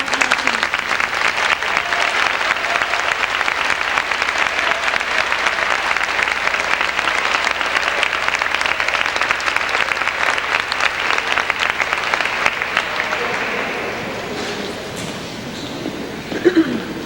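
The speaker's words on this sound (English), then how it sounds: "Please join me in a round of applause." A high-school audience at a May band concert and senior awards night in Spencer, Iowa, applauds in a long, full round of clapping that stays steady before thinning out near the end.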